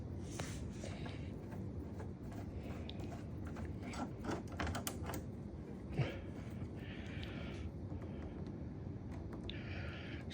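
Bolts are tightened by hand on a metal mounting bracket for a 43-inch television, giving repeated close ratcheting clicks and small metallic clatters in irregular bursts over a quiet room background.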